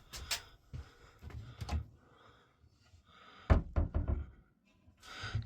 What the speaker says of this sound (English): Some more cupboard doors to fit.